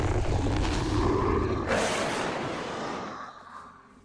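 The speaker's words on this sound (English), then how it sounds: "the only thing that the adventurers experience is the sound of these creatures" Monster creature sound effect played during a tabletop role-playing game: a harsh roaring, rumbling snarl with a whooshing burst midway, loud and close at first and then trailing off.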